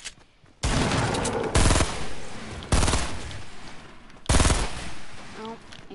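Bursts of submachine gun fire in a video game, four loud rapid-fire volleys each lasting about a second, separated by short pauses, with faint talk beneath.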